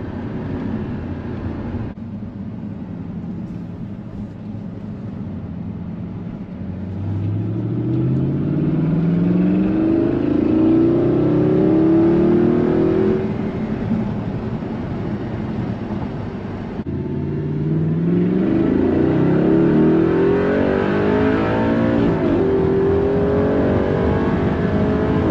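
A car engine in a racing game, played through a steering wheel setup, accelerates hard twice with rising engine pitch. The loud, sustained revving climbs through the gears, then drops briefly before climbing again.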